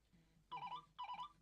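A mobile phone left inside a car, near a cat in a cage, rings with two short repeated ringtone bursts, faint and somewhat distant.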